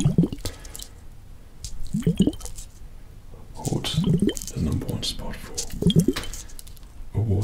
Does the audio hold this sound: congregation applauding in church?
no